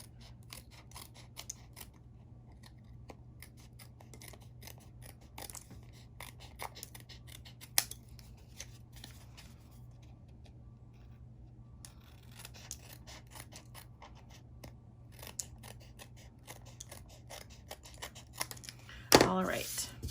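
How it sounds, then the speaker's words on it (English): Metal craft snips trim the excess paper from a handmade floral card, giving a run of faint, close-up cuts over low hum, with a louder clatter at the end as the tool is handled. "I'm going to flip it over and just use my snips to trim off"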